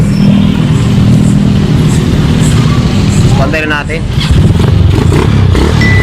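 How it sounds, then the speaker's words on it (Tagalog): A motorcycle engine, started without its key, runs steadily with a loud, continuous rumble close by, while a person speaks briefly over it. "bali umandar na yung ating motor"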